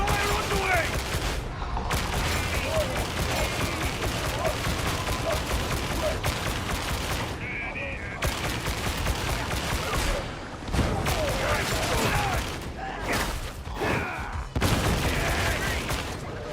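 Precision gunfire in the Darktide video game, a sustained stretch of dense, loud shooting and impacts with brief pauses, mixed with game noise and voices talking over the action.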